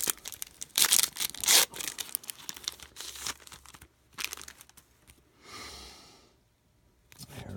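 Foil NBA trading card packs from the dollar store and Walmart being torn open by hand without scissors, giving bursts of close, loud crinkling and ripping with short pauses between pulls.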